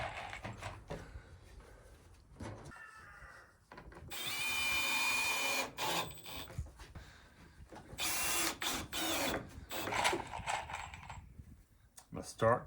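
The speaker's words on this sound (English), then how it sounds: "I'm screwing the spacer to this board first." A power drill drives screws through a spacer into wood boards for a chicken tractor build, giving several separate bursts of whirring, grinding drive, close and fairly loud, with brief pauses and handling clatter between.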